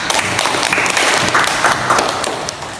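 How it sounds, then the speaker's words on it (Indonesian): A classroom full of students breaks into steady, loud applause, with dense continuous clapping throughout and faint voices beneath. "Kita beri aplaus."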